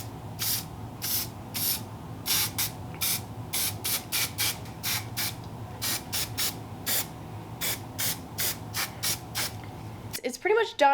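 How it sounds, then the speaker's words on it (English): Hairspray is sprayed onto styled hair in a long series of short, sharp hissing bursts, loud and close, followed by a brief voice at the end. "So now I'm going to blow dry and then hairspray so it doesn't move."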